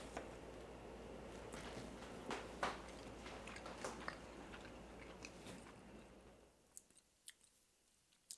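Quiet, close chewing of a bite of barbecue meatball, soft wet crunches and mouth sounds repeating for several seconds before fading to near silence with a few isolated clicks.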